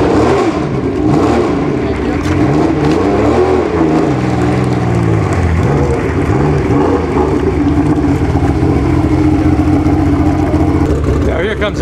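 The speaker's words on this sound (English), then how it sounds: "Questo è un suono della quale Dino Ferrari sarebbe stato fiero." A classic sports car engine revs at an outdoor concours d'elegance show, loud and close, with the pitch rising and falling through the throttle blips while a commentator speaks over it.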